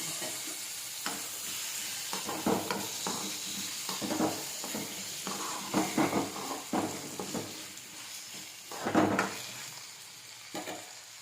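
Washed, cut brinjal sizzling and frying steadily in a pan, with scattered clinks and scraping of stirring over the constant hiss.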